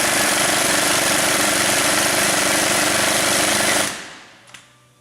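An air-powered tool driven by a compressor, used on a 1999 Jeep Wrangler Sport restoration, runs as a loud, steady, rattling hammering burst for about four seconds, then cuts off abruptly, leaving a faint click or two.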